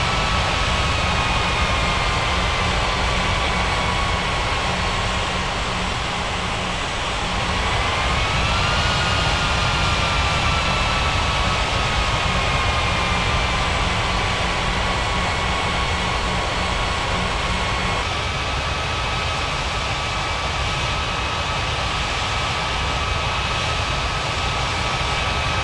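A jet engine drones steadily throughout an air traffic control game as an aircraft taxis toward runway 23, a loud broad roar with faint whining tones that shift pitch slightly partway through, with no talking.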